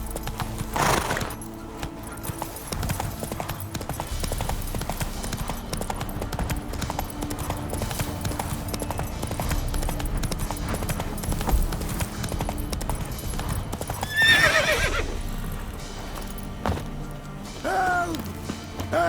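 Roach, the horse in The Witcher 3, gallops with a steady, loud clip-clop of hooves that carries through the whole run. A neigh and a couple of sharp whacks break in near the end.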